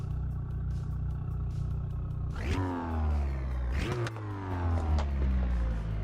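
A Golf MK7 car engine in a racing simulator game revs up through gears, the pitch climbing and dropping with each shift, steady and synthetic-sounding without any voices.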